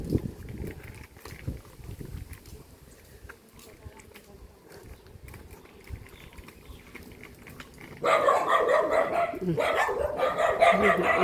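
Dogs bark intermittently at a distance, faint and scattered, then a louder burst of yapping and clamor joins near the end, with people talking quietly throughout.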